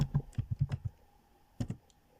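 Typing on a computer keyboard into a browser search box, a quick burst of about eight close key clicks, a short pause, then two or three more taps.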